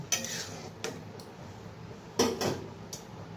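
Poppy seeds are stirred in a pan while cooking amra chutney, with faint spoon scrapes and a few sharp clinks of metal against the pan spaced irregularly over a quiet kitchen hiss.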